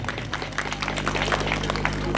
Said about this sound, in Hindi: एक बार इनके सम्मान में जोरदार तालियां बजाएं